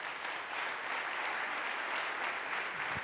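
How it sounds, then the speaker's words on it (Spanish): A church congregation at a Spanish-language service breaks into steady, full applause, with dense clapping from many people filling the room evenly for about three seconds. "Dale un aplauso al Señor."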